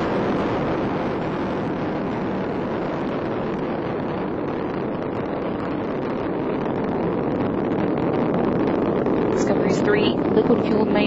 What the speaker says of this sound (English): Liquid fueled main engines are now throttling down to reduce stress on the shuttle